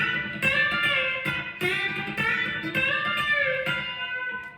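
An electric guitar with a B-bender plays a quick country lick. Sharp, plucked notes and bends are mixed with percussive dead-note clicks in an uneven rhythm, close and clear, with no voices.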